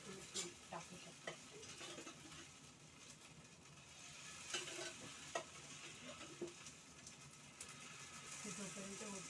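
Poha thalipeeth sizzles on a griddle with oil, giving a steady crackling fry with scattered scraping clicks and brief spikes, close and moderately loud throughout.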